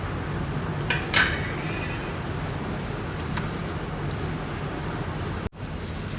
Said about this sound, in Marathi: सर्व चांगल्या प्रकारे हाताने मिक्स करूया पहिला चमच्याने करते मी थोडंसं